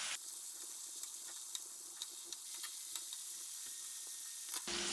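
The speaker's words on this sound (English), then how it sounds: "So these have been frying for about 3 minutes." Sweet potato fries frying in hot oil give a steady, even sizzle with faint scattered pops, continuous and fairly quiet from start to finish.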